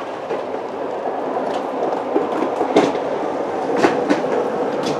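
Motor of a 2020 Zinger 299RE travel trailer slide-out runs steadily with a rattling, clattering mechanical drone, close by, with a few sharper clicks as it ratchets.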